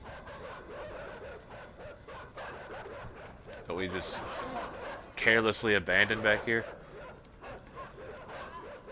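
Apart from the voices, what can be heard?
dogs barking in the video game Inside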